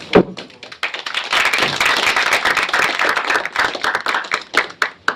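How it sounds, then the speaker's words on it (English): Audience applause at the close of a lecture introduction on innovation economics, a burst of many hands clapping that swells, holds steady and thins into a few scattered final claps. "let's give a round of applause for Bill"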